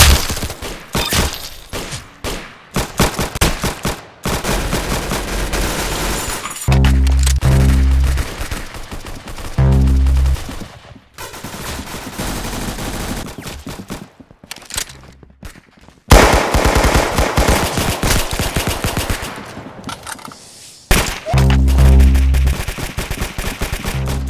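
Rapid bursts of automatic gunfire in the Roblox Arsenal shooter game, loud and dense, with stuttering volleys separated by short pauses over about twenty-four seconds.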